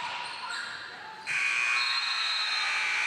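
A loud, steady electronic buzzer sounds about a third of the way in and holds to the end, ending a girls high school basketball game, Jay vs Southside at Southside HS, over gym crowd noise.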